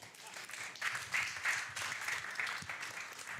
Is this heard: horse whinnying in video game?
no